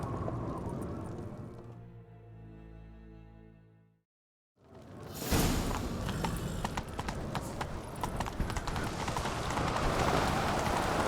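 A tonal sound fades into a brief silence, then loud, close horse hooves gallop in a rapid, steady rhythm until the end, in the video game The Witcher 3: Wild Hunt.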